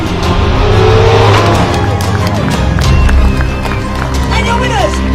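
A Porsche 911 GT3 RS rally car runs at full power on a road stage, engine roaring loud and close with tyre noise and gear changes, rising and falling across the clip.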